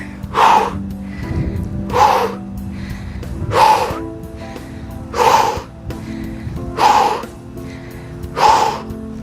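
Sharp, forceful exhales repeat roughly every one and a half seconds, close and loud, six in a row, as someone does tricep pushdowns with a resistance band.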